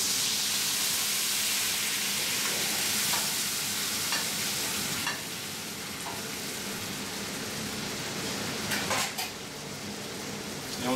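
A Skrei cod fillet sizzles in a pan of foaming, lightly browned butter as it is basted, giving a continuous close frying hiss with occasional spoon scrapes and spits.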